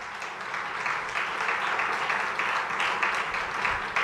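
Church congregation applauding during a pastor's sermon, a steady fairly quiet wash of clapping lasting the whole stretch, with no voices on top.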